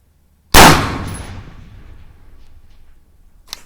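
A single loud gunshot cracks out near the field brush and fades away in a long rolling echo, then a faint sharp click sounds near the end.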